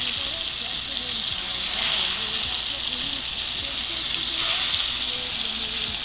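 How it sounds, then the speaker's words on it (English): Fish frying in a pot for a curry, a steady loud sizzle and hiss with faint stirring knocks underneath, close by with no voices. "give the fish a little stir in here"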